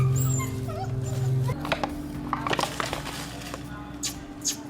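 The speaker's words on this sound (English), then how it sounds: "a mother dog desperately tries to free her puppies trapped under a collapsed house during heavy rain" A mother dog trapped-puppy scene in heavy rain: high, thin whimpers and yips come in short bursts over a steady hum, mixed with scattered scraping noises.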